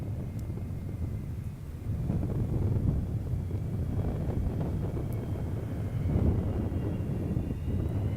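Shuttle Carrier Aircraft touching down on the runway at Kennedy Space Center, a steady low rumble of engines and wind buffeting the microphone, swelling slightly near the end.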